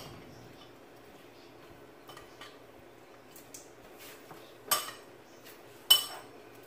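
A little spoon stirring ingredients together in a home kitchen, faint scattered taps and scrapes against the container, with two sharper clinks toward the end in an otherwise quiet room.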